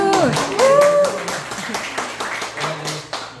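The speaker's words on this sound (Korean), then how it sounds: "와, 박수!" Clapping and applause from a group at a Korean business meeting with shop owners, fairly loud and continuous over about three seconds, with voices and some talk mixed in at the start.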